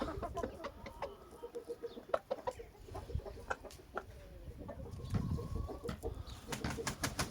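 Indian game chickens cluck and squawk at close range while a rooster calls in the background, with scattered sharp knocks and rustling throughout.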